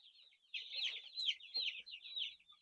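Broiler chickens kept in battery cages cluck and chatter in a continuous, fairly faint stream of high, overlapping calls, with a few soft knocks in between.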